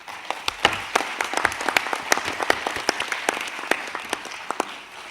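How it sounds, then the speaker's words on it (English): Delegates at the 78th WHO Regional Committee for South-East Asia applaud in a conference hall, a moderate, scattered round of clapping with distinct individual claps that tapers off toward the end. "Let us adopt this resolution of thanks with applause."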